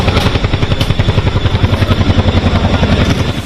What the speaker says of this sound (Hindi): डल लेक के ऊपर काफी देर तक चिनूक मंडराता रहा